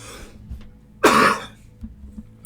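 A single harsh cough sounds close to the microphone from someone with a throat worn out from yelling, with soft breathing and quiet background noise before and after.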